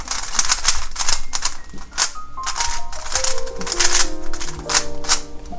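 A WRM 2021 speedcube being turned fast, giving a dense run of sharp plastic clicks and clacks in quick bursts, close and fairly loud, with a rising electronic tone in the background.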